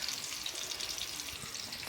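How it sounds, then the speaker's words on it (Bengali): Fish frying in hot oil in a pan, a continuous close sizzling hiss with light crackles, unbroken for the short stretch and without talk. "আমার মাছটা ততক্ষণ ভাজা হোক,"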